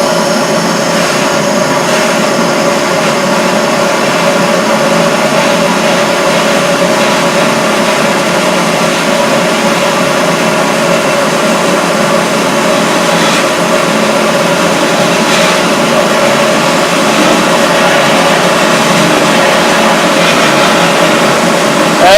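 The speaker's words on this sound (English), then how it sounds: "show you a little sandblasting." A sandblaster blasts rust off fire-damaged metal with a loud, continuous roaring hiss that holds steady without pause from start to finish.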